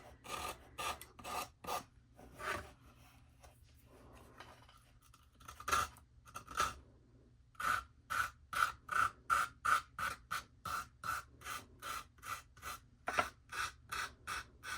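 A small handheld sander works over a wooden dollar-store tree, giving repeated rasping back-and-forth strokes, steady and close, with a clear rhythmic pulse through most of the stretch and no talking.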